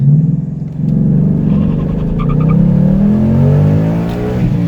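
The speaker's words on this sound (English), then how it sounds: "Automatic start, press OK to begin, begin to accelerate." A 2018 car with an MT82 manual transmission launches hard and accelerates, its engine rumbling close and loud with a rising whine as revs climb steadily through the run.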